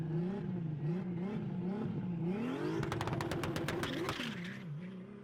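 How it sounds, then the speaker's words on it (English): A Nissan VR turbo engine revs under load with a steady, loud wavering drone, then rises to a sharp series of rapid crackles and pops before settling back, with no voices. "just throw on just a few seconds of just some VR sound, a little VR turbo sound"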